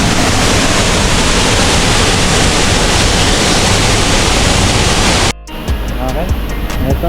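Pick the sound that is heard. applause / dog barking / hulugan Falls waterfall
hulugan Falls waterfall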